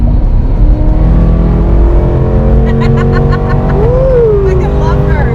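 Pontiac G8 / Holden VE Commodore SS engine accelerating hard through a tunnel, a loud sustained rising engine roar heard from inside the car, with people talking and whooping over it.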